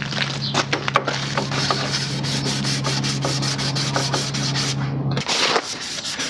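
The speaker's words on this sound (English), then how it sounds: "Now I'm gonna sand the whole thing with 320." Hand sanding with 320 grit sandpaper over body filler on a Boano rally fairing for a Honda Transalp, close-up rhythmic rasping strokes with a steady background hum that cuts out near the end.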